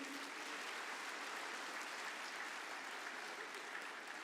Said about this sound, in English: Can we have a round of applause, please?